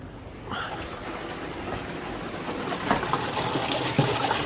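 Water gushing into a garden pond with its bottom drain open, a steady loud rushing and splashing that swells after a moment and carries on with occasional splashes.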